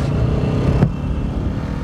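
Bajaj Pulsar RS200 motorcycle engine droning steadily close up while riding, with a brief swell near the middle before settling into a continuous low hum.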